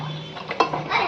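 A spoon stirs bajra khichdi in a pot of hot homemade ghee, a short scraping swirl with a sharper clink partway through over a steady background hum.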